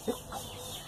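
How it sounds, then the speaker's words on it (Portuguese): A hen gives one short, quiet cluck near the start, then faint low murmurs over soft background noise. "E a outra galinha, eu arrumo tudo ninho, ela vai e bagunça tudo."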